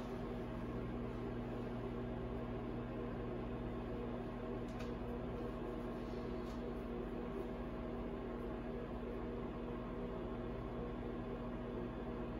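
A steady, low electrical hum with a constant whir from a running microwave oven runs unbroken throughout.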